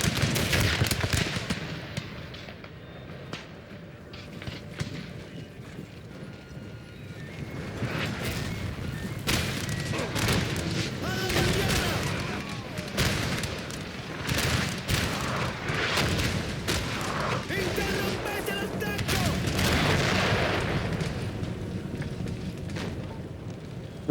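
Cannon and musket fire rumble across a Napoleon Total War battlefield, a dense, continuous din of booms and crackling volleys, some near and some distant, building in intensity throughout with no clear talk.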